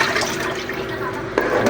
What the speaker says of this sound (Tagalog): maglagay tayo ng kunting tubig. Isang platitong tubig